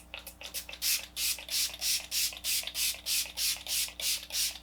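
Hard Candy setting spray misted onto a made-up face in a quick run of a dozen or so close, rhythmic pumps, each a short airy burst.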